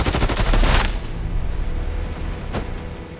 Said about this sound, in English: The last Pakistani soldier fell to Vikram's bullets